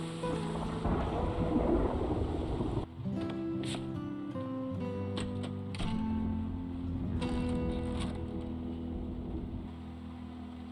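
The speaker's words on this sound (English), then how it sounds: "It's been raining for quite a few days now." Rain with rolling thunder in the survival video game Project Zomboid: a dense noisy wash of rainfall and low rumble, then fading under soft tonal game music.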